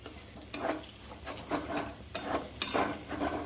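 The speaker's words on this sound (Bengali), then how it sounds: "চলো এখানে ভাজা হয়ে গেছে সবজিটা, আর ডিমটাও ভেজে নিচ্ছি" Eggs fry with vegetables in a pan for egg bhurji, heard as short bursts of sizzle and scraping spatula strokes in an uneven stirring rhythm, close and moderately loud.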